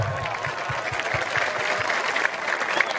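Loud, close applause from a religious sermon crowd in West Java, many hands clapping rapidly with rhythmic low thumps under it and some crowd murmur mixed in.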